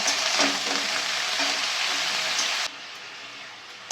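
Spinach stems and leaves sizzle and crackle steadily in hot oil in a pan for a Bengali-style dish, with a loud continuous frying hiss that drops sharply near the end, then a brief burst.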